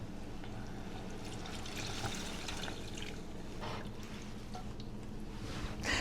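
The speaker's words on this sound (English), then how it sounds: "Now that it's thickened up, we'll add our 2nd cup of milk." A second cup of milk pours into a thickened homemade cream soup, a soft continuous trickling stream, fairly quiet and close, with faint kitchen clatter near the end.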